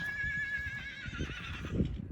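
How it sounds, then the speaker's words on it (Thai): A horse neighs loudly and close by on a hiking trail in Switzerland, one long shrill whinny that trails off into snorting and shuffling over steady outdoor background noise. "เสียงม้า มันร้องดังลั่นเนาะ"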